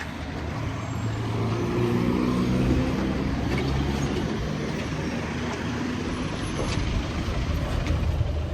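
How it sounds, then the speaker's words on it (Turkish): A city bus arriving in a street, a steady loud engine rumble and road noise rolling close by throughout, with faint high squeals near the end. "Otobüs geldi."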